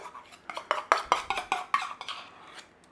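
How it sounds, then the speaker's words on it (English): An egg is beaten into bread dough for Kaiser rolls with a utensil in a bowl, making a quick run of about a dozen close, sharp clinks and taps that fade toward the end. "we've got an egg here, look. Just going to give that a beat in"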